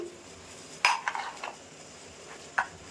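Raw mango strips are stirred into oil in a pan, with a few sharp scrapes and clinks of a spoon against metal over a faint sizzle, close up.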